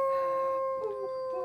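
A human voice imitates a long, mournful howl coming from a nearby wood, one sustained wavering tone that fades out within about a second and a half.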